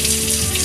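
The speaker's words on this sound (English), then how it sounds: "let me turn my tap water on so it can start to heat up" Tap water gushes steadily from a kitchen faucet into a sink, a loud, close, continuous hiss and splash with no voices.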